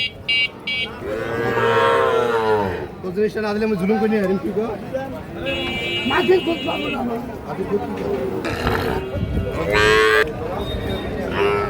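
Sahiwal bull calves at a Comilla cattle market, about six to seven months old, moo loudly and repeatedly in long drawn-out calls up close, with crowd chatter and buzzing market noise running underneath throughout.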